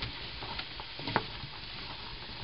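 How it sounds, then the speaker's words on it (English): Broccoli soup with two heads of broccoli stirred in a big pot, a soft sizzle under a few light scrapes and knocks of the spoon, quiet and close with no talking. "I've been stirring this probably for about 7 minutes"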